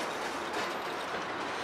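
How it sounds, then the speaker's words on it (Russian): A passing train at a rail crossing rumbles steadily from a short distance in a dense, continuous wash of wheel and carriage noise, with no talk. "О, я вижу конец поезда."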